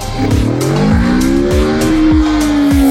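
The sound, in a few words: BMW K1600 motorcycle engine throttling during wheelie practice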